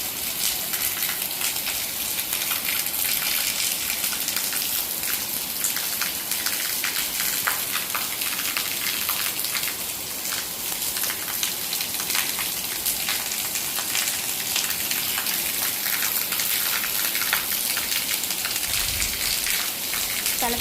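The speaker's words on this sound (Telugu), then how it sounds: "బయట అయితే ఫుల్ వర్షం పడుతుంది చూసారు కదా మాది పెంట్ హౌస్ కదా వర్షం నీళ్ళు చూడండి పైనుండి ఎలా జారబడుతుంది" Heavy rain pours steadily with water streaming off a penthouse roof and splashing nearby, a constant dense rush that continues without pause and without speech.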